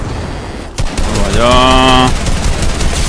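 Rapid gunfire bursts from a shooter video game's arena duo match fill the clip, loud and close, with a brief sustained electronic tone in the middle and a short spoken exclamation.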